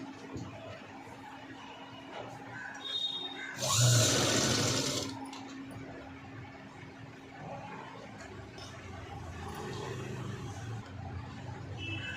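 A sewing machine stitches piping around a blouse neckline, giving one loud burst of running stitches midway, with quiet machine hum before and after.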